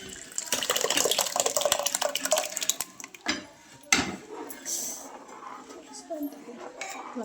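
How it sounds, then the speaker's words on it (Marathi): Hot water poured into dal in a pressure cooker: a steady, splashing pour for about three seconds, then scattered clinks and lighter trickling, close and fairly loud. "आता पाणी गरम करून घेतलेलं आहे ते पाणी टाकून घेते"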